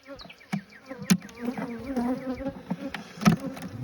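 Honeybees buzz close by during a hive inspection in a good propolis year, a dense droning hum with individual bees zipping past, plus a few sharp taps from hive tools.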